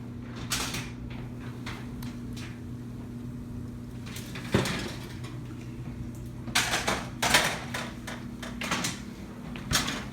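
A baking tray holding a thin keto pizza crust is pulled from an oven, with a metallic scrape, a thud and a few clattering knocks over a steady oven hum.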